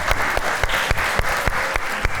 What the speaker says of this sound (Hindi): वाह, तालियां